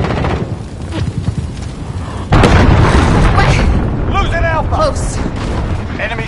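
Cruise missile explosion in Call of Duty Modern Warfare: a loud, sudden boom midway that leaves a heavy, sustained roar of rumble and debris, with game voices speaking over it.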